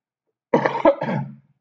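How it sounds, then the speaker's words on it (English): A single close, rough cough, a couple of quick hacking bursts trailing into a throaty clear, alone in silence. "As I cough into my sleeve."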